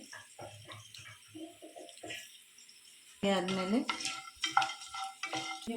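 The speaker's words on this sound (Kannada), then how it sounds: "1 ಟೀ ಸ್ಪೂನ್ ಕಾಳುಮೆಣಸು, 2 ಏಲಕ್ಕಿ. ಇಷ್ಟನ್ನು ಹಾಕಿ ಚೆನ್ನಾಗಿ ಫ್ರೈ ಮಾಡ್ಕೋಬೇಕು" A teaspoon of black pepper and two cardamom pods fry in a pan for green chicken kushka. A voice speaks first, then a loud, close sizzle bursts in with spoon stirring and clatter.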